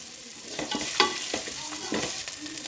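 Chicken fries in a kadai over a high flame, a close sizzle broken by several scraping stirs of a spatula at irregular intervals.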